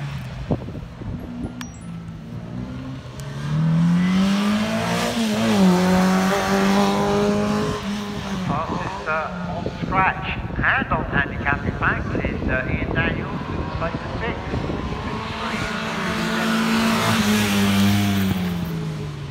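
A classic sports car built before 1978 races up the Prescott hill climb, its engine note rising and dropping through gear changes as it passes close and loud, then fades into the distance, with a commentator talking over it.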